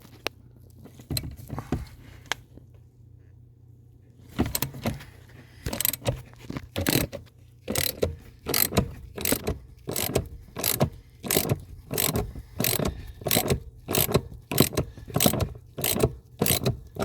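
A hand ratchet with a 13mm deep socket works a bolt loose on a 2018 VW Golf R during clutch master cylinder removal, clicking in a few scattered strokes and then a steady run of evenly spaced close, crisp ratcheting bursts.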